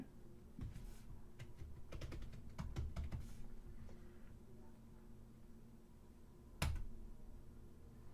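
Keys clatter on a computer keyboard in quick irregular bursts during the first few seconds, then thin out, with one sharp click later; quiet and close, with no voice over it.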